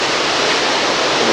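Hurricane Isabel floodwater near Browns Neck Road rushes in a loud, steady, broadband roar that goes on without a break, with no speech over it.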